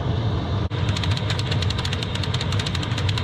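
A steady mechanical engine drone from a heater with a rapid rhythmic knocking, loud and continuous, briefly dipping once near the start.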